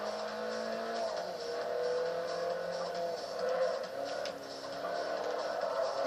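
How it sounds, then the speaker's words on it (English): Race car engine in Forza Motorsport 4 holds a steady high whine with gear-change dips and faint tire squeal, continuous and fairly quiet. "This car's pretty fast."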